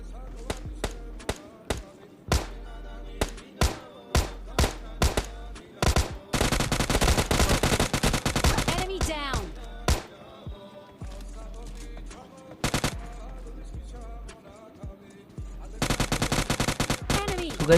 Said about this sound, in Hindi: नीचे अभी भी गंदी वाली फायरिंग हो रही थी